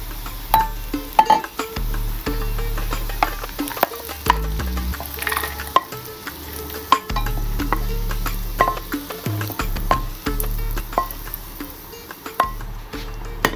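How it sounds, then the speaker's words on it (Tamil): Fifty grams of cashews frying in ghee in a pan for kesari sizzle softly beneath frequent clinks and scrapes of a spoon stirring against the metal, steady and close with no talking. "50 கிராம் கஜுவை போட்டு பொரித்தெடுக்கவும்."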